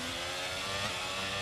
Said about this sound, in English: Then Bottas revving the hell out of engine.